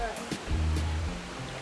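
Strong river current rushes in a steady broadband roar, close and full, with a faint low hum and brief muffled knocks underneath.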